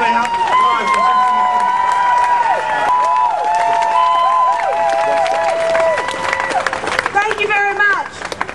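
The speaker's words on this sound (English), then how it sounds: "Let's give a round of applause for Cynthia." A crowd at a Recreate 68 rally in Denver during the Democratic National Convention applauds and cheers for Cynthia McKinney, with loud sustained clapping and shrill whistles that swoop and waver throughout.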